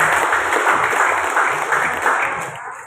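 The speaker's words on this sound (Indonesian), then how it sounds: "Tepuk tangan dulu teman-teman." Applause from an audience at a government gathering in Cilacap, a steady dense patter of many hands clapping that holds for a few seconds and tapers slightly at the end.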